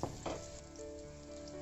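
Potatoes frying in hot oil in a pan, a soft continuous sizzle with a couple of brief stirring clatters at the start, fairly quiet and close.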